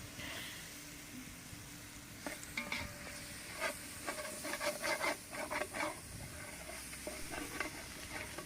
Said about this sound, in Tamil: அப்பாவும் பையனும் நல்லா மாற்றி மாற்றி மாற்றி நல்லா வதக்கிட்டே இருக்காங்க